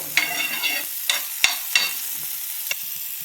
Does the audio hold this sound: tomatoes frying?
yes